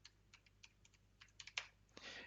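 Typing on a computer keyboard at a Linux command line, a run of light, uneven key clicks with a few sharper taps and a brief flurry at the end, close and fairly quiet with no talking.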